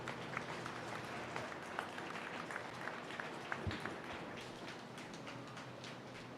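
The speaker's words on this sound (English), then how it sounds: "Let's give all these animals a round of applause" Faint, steady audience applause rises at a Holstein dairy cow show, with scattered individual claps standing out within the continuous wash of clapping.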